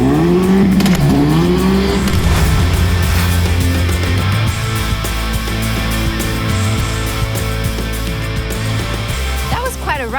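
A Hyundai N race car engine revs hard in a tunnel at a TCR race in Atlanta, its exhaust roaring loudly and close with enclosed echo. The engine note swells and drops repeatedly.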